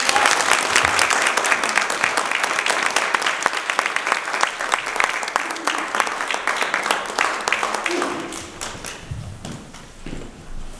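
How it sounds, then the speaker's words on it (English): Audience applause at a candidate forum in Council, Idaho, a steady wash of many hands clapping that holds for about eight seconds, then thins and fades with scattered late claps. "Let's give them both a round of applause."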